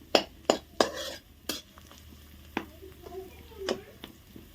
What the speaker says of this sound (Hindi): प्याज आउ लंका रसुण पड़ला आउ तापरे पकई देछि